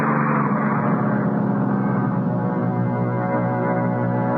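A city bus pulls away from a stop in a radio drama, its engine a steady, loud, low drone that eases slightly as it moves off, with no voices.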